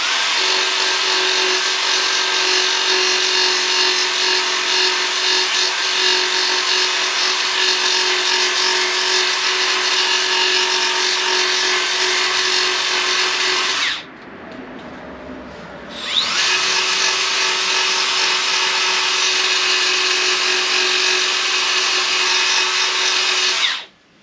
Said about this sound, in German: Entweder ihr schleift das mit einem kleinen Schleifer.